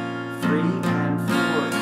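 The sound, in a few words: guitar strumming low and high strings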